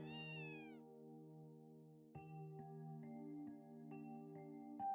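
A cat meows in the video game Trails From Zero, one sliding meow at the start, then sustained tonal music with plucked notes carrying on beneath, no voices.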